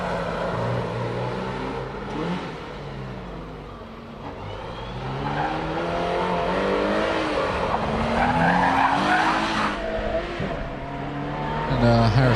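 Subaru race car on a hillclimb course, its engine revving hard and dropping through gear changes as tyres squeal and skid, loud and close, with a commentator talking over it.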